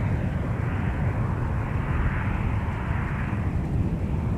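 A jet airplane at Minneapolis–Saint Paul (MSP) airport roars steadily and loudly, a broad continuous engine rumble with no break, heard during outdoor spring plane spotting.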